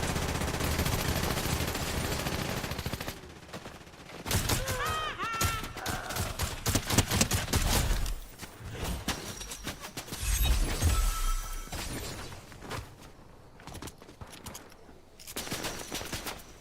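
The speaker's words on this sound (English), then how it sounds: "They're shooting down from the hill near the Springfield sign." Gunfire in the video game Fortnite during a Simpsons crossover, dense bursts of rapid automatic shots and crackling impacts continuing loudly with brief pauses over game sounds.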